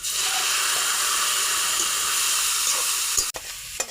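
Radish greens frying in oil in a pan with chopped onion, garlic and green chillies, giving a loud steady close sizzle and hiss throughout, with a sharp clatter near the end.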